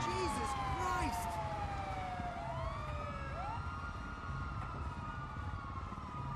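Emergency sirens in the video game GTA 5, several wailing and sweeping tones overlapping and fading, heard over steady background noise with some game sounds early on.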